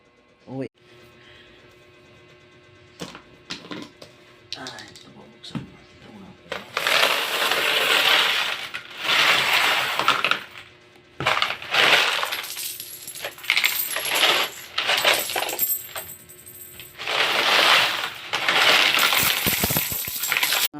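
Coins pour and clatter out of a broken-open piggy bank in loud bursts of metallic jingling and tumbling over about twenty seconds, with scraping and handling noises between pours and a voice speaking at moments.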